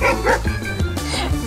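A dog barking in a few quick, loud, close yips and bow-wows, with a short whimpering tone between the barks.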